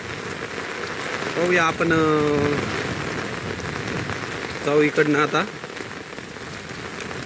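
Steady rain falls outdoors near a stream that has risen, a continuous hiss of drops on surfaces with someone talking over it in two short bursts.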